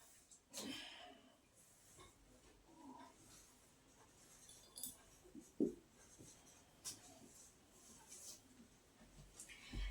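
A teacher writes notes on a board during a class 7 lecture on human excretion, giving scattered short scratchy strokes and taps that are soft and intermittent, with the teacher speaking quietly in between.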